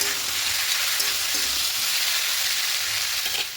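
Fish paste, potatoes and mixed vegetables fry together in a pan with a dense, steady rain-like sizzle, faint stirring knocks beneath, close and constant.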